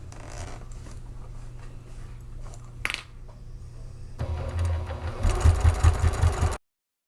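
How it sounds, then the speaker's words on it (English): A sewing machine stitches zipper tape to a faux leather exterior panel, starting in a short, louder, pulsing run near the end. Before that come quieter handling noises and a brief sharp zip-like sweep. "And then I'm going to stitch across there to secure the top of the zipper tape to the exterior panel."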